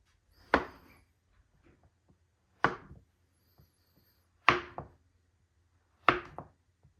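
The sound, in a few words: knife slicing rocky road and peanut butter fudge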